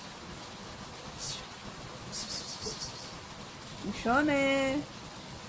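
Steady rain falls in a soft, even wash close by, with a brief louder patter or two; a voice calls out once near the end over the rain.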